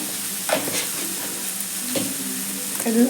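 A fish mixture for fish croquettes frying in a pan hisses steadily up close, broken by a few scraping stirs of a spatula.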